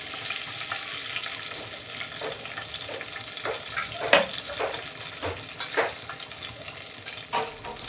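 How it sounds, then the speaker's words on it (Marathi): Dried red chillies tempering in hot oil in a kadhai, a steady close sizzle with scattered stirring clicks and small pops throughout, no voices. "आता तेल कडते तर त्याच्यामध्ये लाल मिरच्या टाकायच्यात आधी"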